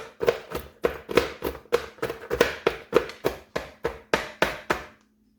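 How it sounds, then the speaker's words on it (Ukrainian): Nuts being chopped with a knife on a board while a cake base bakes, about fourteen sharp even strikes in steady rhythm, close and fairly loud, with no talking, ending in a brief quiet hum. "Поки корж печеться, подрібню горішки."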